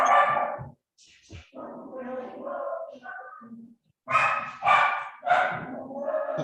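Dogs barking in a burst of repeated, fairly loud yaps during an online town planning board meeting, with the barks coming in clustered runs near the microphone.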